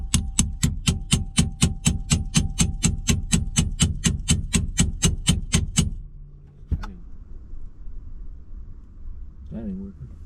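About twenty sharp, evenly spaced metallic hammer strikes on an old bushing for a BMW E36 steering wheel ring out close by, then stop, followed by a lone clank and faint rustling.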